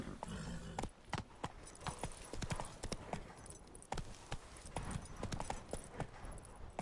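Horse hooves galloping in The Witcher III video game, a fast, steady clip-clop rhythm of close, loud hoofbeats running throughout, with no speech over them.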